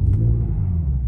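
An Infiniti Q50 revs its engine in snow while trying to back out of a parking spot, giving a steady, close low rumble throughout with no talk.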